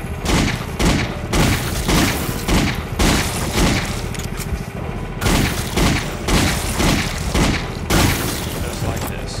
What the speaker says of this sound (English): we'll waste them with the M4